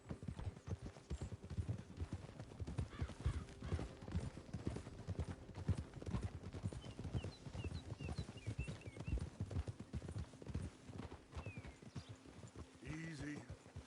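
Horse hooves clip-clop steadily in Red Dead Redemption 2, a continuous rhythmic trotting beat up close, with characters talking over it and a brief snort near the end.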